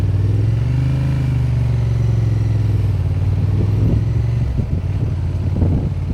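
A Honda Transalp motorcycle rides along with a loud, steady engine drone, its pitch easing slightly and turning rougher and more uneven near the end, with no talking.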